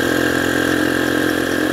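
Honda C70 motorcycle with a modified, mixed-parts engine, giving a steady loud drone with a constant note and no clear rise or fall, close and alone.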